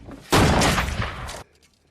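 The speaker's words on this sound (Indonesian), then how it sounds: "Mick langsung mengeluarkan senjatanya dan langsung membunuh Katarina." A burst of gunfire from a film scene: a loud, dense, roughly one-second blast of sustained rapid shots that cuts off abruptly into near silence, with no talk.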